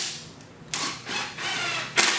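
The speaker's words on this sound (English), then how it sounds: "put in the 2-inch screws." Screws being driven into a large wooden Montessori bookcase during assembly, heard as several separate bursts of whirring, starting with a longer run and ending with a short, loud final spin.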